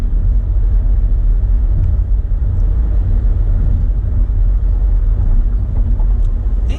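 Steady, loud road rumble from a car driving west on US 290 highway in Houston, a continuous low engine and tyre drone with no pauses and no talking.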